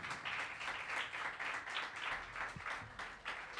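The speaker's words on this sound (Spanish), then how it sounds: "quiero también pedir un fuerte aplauso nuevamente" An audience at a BajoBar music show applauds, with scattered hand claps and light cheering at a fairly low level, steady across the few seconds and free of speech.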